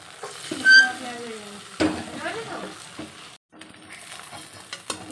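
An egg frying in a pan, with bursts of sizzle and stirring scrapes, and clattering utensils close by. Some faint speech-like sounds are present early on.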